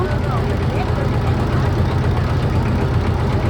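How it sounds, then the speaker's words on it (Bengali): A trawler boat's engine runs slowly, a loud, steady low throbbing drone that holds without a break, with a faint voice mixed in. "আমাদের ট্রলার আস্তে আস্তে করে যেতেছে।"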